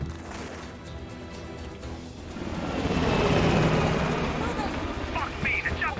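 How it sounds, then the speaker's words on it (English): A helicopter in Call of Duty: Black Ops Cold War lifts off and flies away, its rotor roar swelling to a loud peak before easing off, with gunfire and combat clatter around it. "The chopper got away!"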